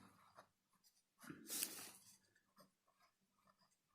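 Pen writing on paper while setting out a maths problem, a few quiet scratchy strokes with one louder, longer scrawl in the middle, close and faint.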